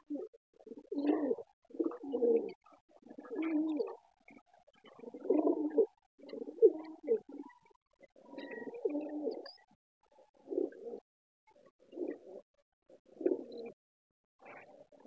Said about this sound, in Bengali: তো ওইটা অবশ্যই মাদি কবুতর